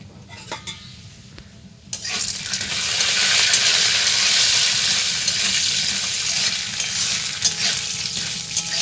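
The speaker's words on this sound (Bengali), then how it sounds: "ভালো করে বড়িগুলো ভেজে নেব।" Bori lentil dumplings are dropped into hot oil with five-spice seeds, and a loud, bright sizzle suddenly bursts in after a quiet start with faint clinks, then holds steady with occasional utensil scrapes.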